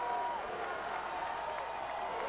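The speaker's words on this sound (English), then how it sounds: "And the crowd, if they were sleeping, is wide awake right now" A high school regional final football crowd at Winton Woods versus Anderson, steady broad roar of cheering and applause throughout, distant and sustained without breaks.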